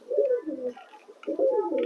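Pigeons in a loft cooing close by, a couple of low rolling coos with a short pause between them.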